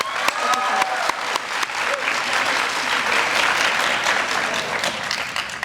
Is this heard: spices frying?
no